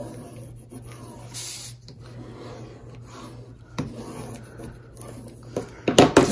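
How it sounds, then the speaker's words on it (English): A bone folder rubs firmly over freshly glued paper on a clear window album flap, making a series of dry, rasping strokes with short pauses, closer and louder toward the end. "And then burnish it down with the bone folder."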